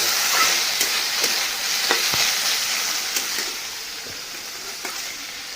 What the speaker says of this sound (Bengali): ঢাকা দিয়ে রেখে দিই আলু ভাজাটা হোক